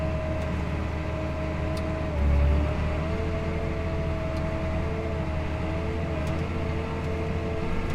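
A tractor pulls a manure spreader whose push bar drives cattle manure out the back onto an alfalfa field, a loud steady engine drone with a constant mechanical hum and whine, no talk.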